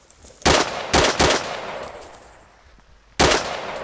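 Gunshots in the DayZ mod DayR, three loud, sharp close cracks, the second a quick double, each trailing into a long echoing decay, with a final shot after a pause.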